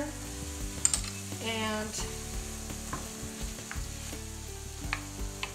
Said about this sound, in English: I am ready to add just a pat of butter in here